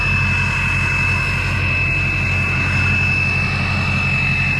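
A 6.0 diesel truck engine fitted with a grille guard runs steadily, a loud continuous droning rumble with a persistent high whine, heard alone without voices.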